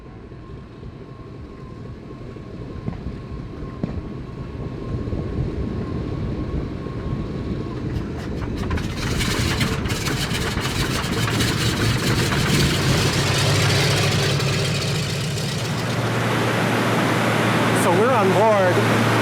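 Engine of a vintage D-Day aircraft idling, heard from aboard the plane over Normandy, a steady low droning hum that swells louder and rougher partway through and stays loud and continuous, with a voice briefly audible early on.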